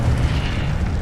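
The Incendio fire spell goes off in Hogwarts Legacy as a loud, sustained roaring whoosh of flame with a low rumbling body, steady and close throughout.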